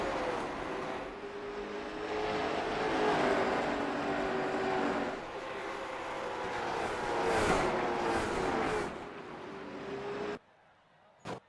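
Late model stock cars race in a sim racing game at South Boston Speedway. A pack of engines drones continuously with rising and falling pitch as cars pass, then cuts off abruptly near the end.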